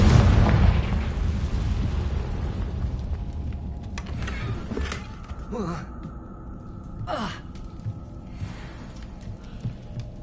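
Fire spell explosion from Hogwarts Legacy: a loud booming blast at the start fades into rumbling, followed by several sweeping whooshes and softer magical bursts.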